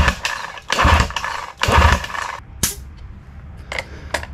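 An outboard motor is cranked over for a compression test, giving two bursts of rough mechanical churning, then a sharp click and a few faint clanks in a quieter workshop.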